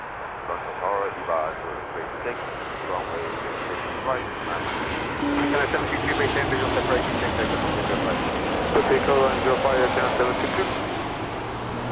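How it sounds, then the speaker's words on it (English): A WestJet Boeing 737 in Sunwing livery coming in to land at Toronto Pearson, a steady, broad jet roar that swells slightly over time, with voices heard throughout. "this is a WestJet coming in from Vancouver in the Sunwing livery"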